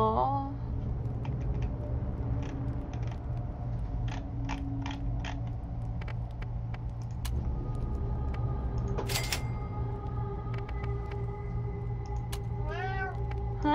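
A cat meows in the Borderlands video game, its calls rising over a steady mechanical hum with creaks and gear-like clicks, while a voice speaks quietly in the background.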